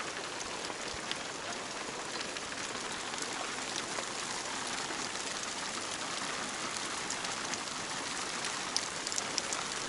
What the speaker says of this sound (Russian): Вроде ясное небо, а дождь идет.